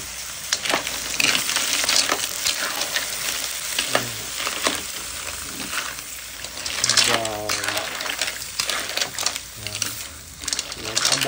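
Mussels are stirred as they cook in a pan, a continuous sizzle with intermittent scraping and clattering of shells and spoon, while people talk in the background.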